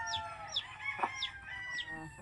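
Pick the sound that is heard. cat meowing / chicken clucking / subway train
chicken clucking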